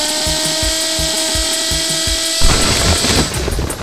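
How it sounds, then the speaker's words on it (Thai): Cartoon drill boring a hole into a floor, heard as a tonal mechanical whine with rapid rhythmic pulses that then gives way to a harsher, noisier grinding as the bit bites in, loud and close. "ว่าแต่นี่มันเจาะพื้นทำอะไรเนี่ยเป็นรูเลย"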